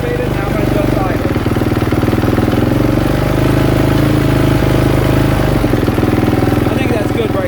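A KTM 450SXF dirt bike engine idling with the throttle body cold start knob activated, a loud, steady, rapid mid-pitched idle chugging continuously throughout.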